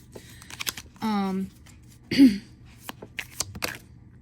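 A tarot deck with a regular playing-card feel is shuffled with soft, scattered riffling clicks and taps, close by, broken up by a couple of brief hummed or voiced sounds.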